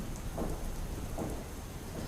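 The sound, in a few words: rain and thunder in Ahmedabad city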